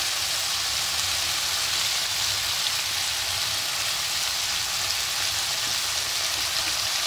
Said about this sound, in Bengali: একটু হালকা একটু নাড়াচাড়া করে নিই তেলের সঙ্গে